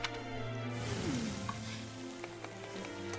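Ramen sizzles in a frying pan in the game Fire Emblem: Three Houses, a faint steady crackle and hiss with a few light pops under soft background music.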